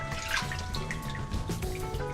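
Tap water runs steadily while plastic parts from a Tamiya 1/16 RC Sherman tank model kit are washed of oil residue and mold release, with small splashes and drips close by, no talking.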